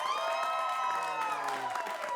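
An improv comedy crowd votes for a film with clapping that is partly buried under drawn-out whoops and cheers from several voices.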